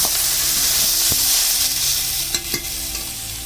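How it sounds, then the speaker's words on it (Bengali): Water poured into a pan of sizzling lote dried fish masala with mustard paste, a loud hissing sizzle that stays strong and steady, close up, with a couple of soft clinks and no talking. "পরিমাণ মতো জল দিচ্ছি"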